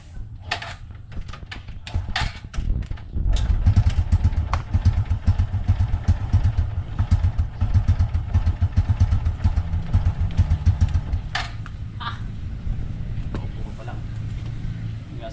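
A carburetted Honda XRM 125 motorcycle engine sputters and then catches, running at a rough idle close by after some clattering attempts.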